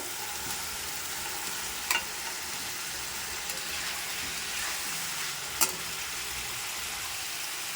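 Potatoes fry with spices in oil, giving a continuous, even sizzle and hiss. Two brief sharp clinks stand out, and otherwise the sound stays fairly quiet.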